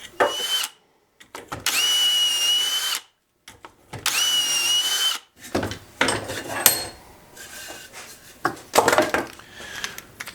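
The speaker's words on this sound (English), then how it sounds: "as I was drilling into the end" Drilling into the end of a wood board with a Dowel Max jig for a jewelry cabinet, a close whining drill in three steady bursts with short pauses, then scraping and knocking.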